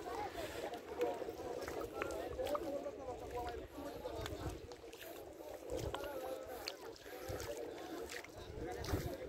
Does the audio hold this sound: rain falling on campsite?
no